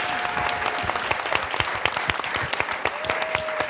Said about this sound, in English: if we could get a quick round of applause for our panelists